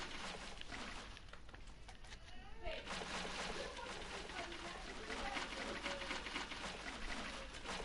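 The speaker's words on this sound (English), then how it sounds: "We're going to put some water right here." Water poured out of a bucket onto garden ground, a continuous splashing, sloshing stream at moderate volume with a voice talking over it.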